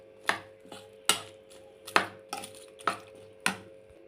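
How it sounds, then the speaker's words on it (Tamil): Mango pickle being stirred with hot oil poured over it, heard as about seven sharp, close clacks of a utensil against the vessel at an uneven rhythm, with faint mixing noise between and no speech. "சுட சுட அந்த எண்ணெயை ஊற்றிட்டு நல்லா மிக்ஸ் பண்ணி விட்டுருங்க."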